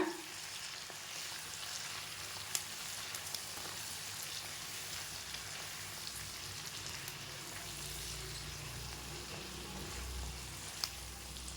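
Chopped tomatoes sauté in a pan for paneer butter masala, making a soft, steady, continuous sizzle with a faint hiss throughout and only a couple of small clicks.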